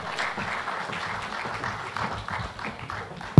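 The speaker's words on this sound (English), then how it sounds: "Please, another round of applause." An audience applauding at an industry innovation event, a steady patter of many hands clapping throughout, moderately loud and filling the room.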